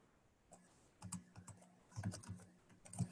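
Close typing on a computer keyboard, with quiet irregular clusters of key taps that begin sparse and then come in denser bursts toward the end.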